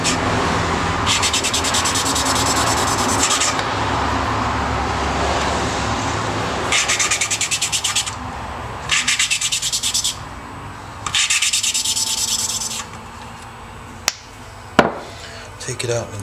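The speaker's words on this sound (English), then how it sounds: "if you listen, you can hear the grittiness of the valve grinding compound." A valve is twisted back and forth on its seat with gritty lapping compound, making repeated raspy grinding strokes in bursts with short pauses, followed by a few light taps and knocks; the valve work is close and fairly loud.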